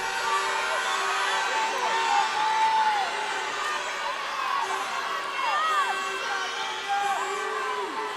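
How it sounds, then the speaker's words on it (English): Crowd at a county swimming championships cheering and whooping at the start of a girls' 100 metre breaststroke final in an indoor pool, a sustained loud roar with shrill shouts rising and falling, voices mixed throughout. "Great noise in the crowd"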